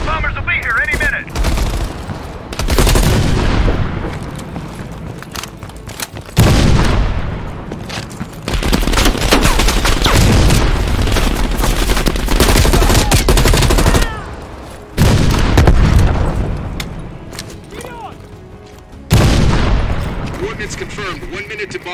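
Bombing strike and gunfire in Call of Duty: Black Ops Cold War bring heavy explosions, booms and rattling automatic fire in repeated loud bursts, with voices talking throughout.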